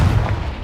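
Confringo fire-blast spell exploding in Hogwarts Legacy, a single loud close boom with a heavy low rumble that decays quickly over under a second.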